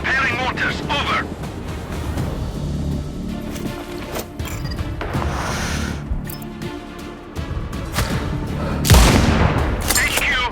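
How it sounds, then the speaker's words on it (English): Mortar fire in the video game Sniper Ghost Warrior Contracts 2: rumbling booms and scattered blasts over a steady battlefield din, with a heavier, louder explosion near the end and voices mixed in. "Tango under mortar fire."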